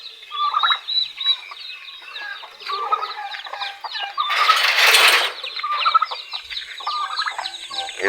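Chickens wandering a hot, dry farmyard cluck and chatter in a busy layered chorus of short repeated calls, with a brief burst of rustling noise midway through.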